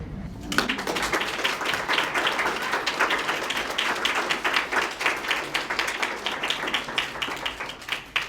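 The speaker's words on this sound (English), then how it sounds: "One more round of applause for these incredible performers over here" An audience at a regional Poetry Out Loud competition applauds after a poetry performance, many hands clapping in a loud, sustained, dense patter that begins abruptly and holds steady, with no talk over it.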